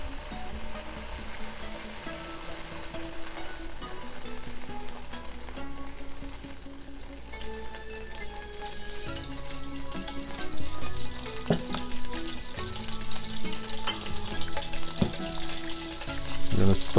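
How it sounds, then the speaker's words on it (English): Vegetables fry in oil in a pan for a beef and broccoli dish, a continuous close sizzle with scattered clinks and scraping of a utensil that grow busier toward the end. "Now we're gonna cook our veggies."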